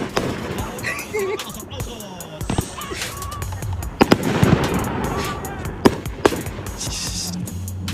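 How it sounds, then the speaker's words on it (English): Fireworks bursting outdoors during an argument over a permit: several sharp pops and crackles over a few seconds, mixed with ongoing background noise and voices talking. "Fireworks."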